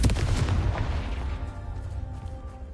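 A Confringo blasting spell in Hogwarts Legacy lands as a heavy, booming explosion right at the start, then rumbles and fades out.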